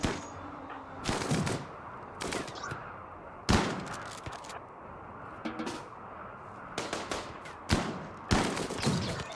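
In the RimWorld colony game, gunfire rings out in sharp, scattered bursts, single shots and quick volleys spaced irregularly over a low background hum, fairly close and punchy.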